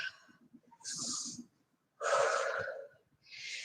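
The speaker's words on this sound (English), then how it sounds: "Take a couple of breaths here." Heavy, loud breaths from a person resting between exercises during a fall body workout: a few deep, airy huffs with short pauses between them, close and alone, with no talking.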